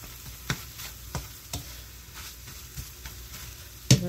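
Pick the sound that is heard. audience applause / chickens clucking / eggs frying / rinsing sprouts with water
eggs frying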